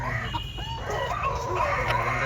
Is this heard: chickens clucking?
yes